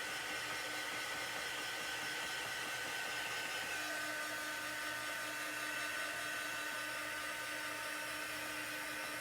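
A hair dryer runs steadily at close range, drying a wet spot, with a continuous airy whir that holds even and unbroken throughout.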